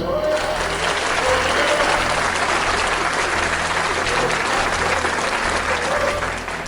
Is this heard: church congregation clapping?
yes